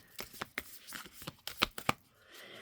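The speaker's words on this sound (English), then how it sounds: "I'm just going to shuffle them like this." Tarot cards are riffled and tapped in a quick series of crisp, close bursts, each sharp and papery, with a short quiet stretch at the end.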